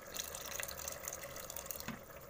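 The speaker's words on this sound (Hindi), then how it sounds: "थोड़ा सा पानी डाल लूंगा इसमें मैं।" Water pours steadily with a soft splashing hiss, quiet and close, into a pressure cooker holding arbi (taro root) for a curry.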